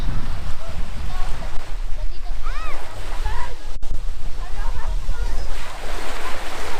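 Sea waves wash onto the beach at Canyon Cove, Nasugbu, Batangas, a continuous surf roar with wind buffeting the microphone and brief faint bird-like chirps.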